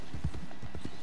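Horse hooves clip-clopping at a steady walking rhythm in Red Dead Redemption 2, several close, quiet hoof strikes in quick succession.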